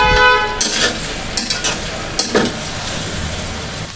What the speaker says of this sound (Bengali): আর বরবটির সঙ্গে মিশিয়ে এভাবে একটু ভেজে নিব এখন এতে দিব সাত থেকে আটটা কাঁচামরিচ